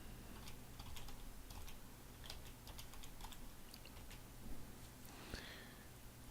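Someone types a password on a computer keyboard, with soft, scattered key taps under a steady hum of background noise and a slightly louder tap near the end.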